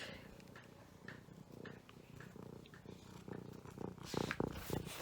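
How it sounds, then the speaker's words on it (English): A house cat purrs close by in a steady, low rumbling rhythm that swells slightly louder toward the end, with small indoor movement noises around it and no talk. "Yeah, silly cat."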